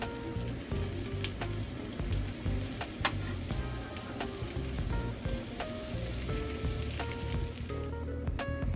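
Burger buns toast on a hot grill with a steady, close sizzle and faint crackling pops throughout, no voices.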